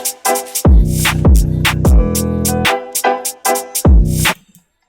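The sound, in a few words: drill beat drums with sample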